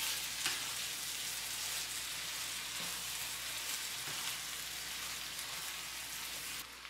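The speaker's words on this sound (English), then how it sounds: "Stir everything all together." Corn, black beans and enchilada sauce filling bubble and sizzle steadily in a pan while being stirred, a continuous close, even crackle with a few soft knocks of the spoon.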